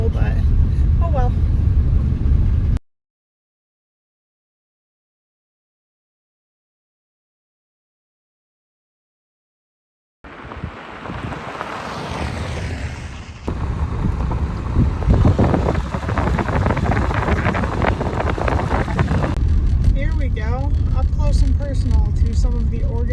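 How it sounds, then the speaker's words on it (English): Wind gusts outdoors in the Organ Pipe Cactus desert buffet a tall, unsteady tripod-mounted microphone, giving a loud, rough roar that comes in uneven surges. There is a stretch of silence first, then the roar continues steadily for the rest. "It is pretty windy out."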